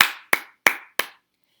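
Four sharp hand claps tapping out the syllables of an animal name, evenly spaced at a brisk pace, close and crisp with no voices.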